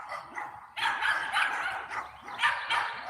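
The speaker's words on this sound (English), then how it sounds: "He just barks." Several dogs barking at someone walking past on the street, bursts of close yapping barks in quick succession, loud and alone.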